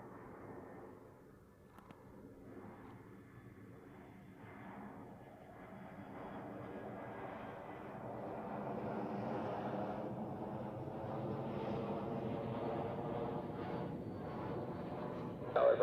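A Lufthansa airliner from Munich on final approach to Zurich runway 14 drones in the distance, a low engine rumble slowly swelling louder over the clip with no talk.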